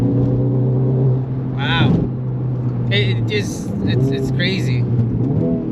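A tuned Honda Civic Type R FL5 making around 600 horsepower on 275/40 tires and 18-inch wheels accelerates through a corner, its engine droning loudly beneath excited talk from people inside the car.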